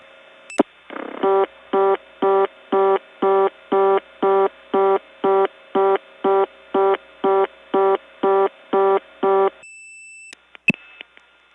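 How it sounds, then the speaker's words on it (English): Telephone dialing through a 1979 Gainesville, Georgia step-by-step tandem over an N1 carrier trunk: a click, then a long run of about fourteen evenly pulsed metallic reorder tones with a hollow carrier howl, ending in brief beeps and clicks. "the N1 carrier and the reorder itself have this metallic quality, and it all makes a really just cool sounding effect"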